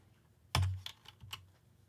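A computer keyboard takes one sharp keystroke followed by a few lighter taps, quiet and close in an otherwise silent room.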